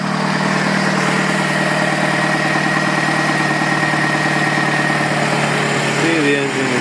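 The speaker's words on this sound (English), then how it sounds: "Just a quick video here of the 2003 Saturn Ion, showing that the engine is in good condition." The engine of a 2003 Saturn Ion in good condition idles with a loud, steady, close hum and even mechanical rumble, with no ticking, and a brief voice near the end.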